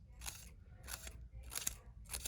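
Four short crisp snips of scissors cutting paper, evenly spaced and close, in a quiet room.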